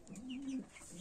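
Pigeons in a racing pigeon loft give a single soft, low coo lasting about half a second. It sounds close and fairly quiet, with faint background room noise and no talking.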